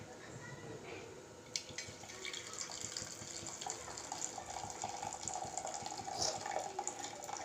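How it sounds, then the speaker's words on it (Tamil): Water drained from drumsticks pours and splashes steadily into a pot, fairly faint, while someone talks over it. "ஒரு பாத்திரத்தில் நம்ம அந்த தண்ணியை வடிச்சிக்கலாம்"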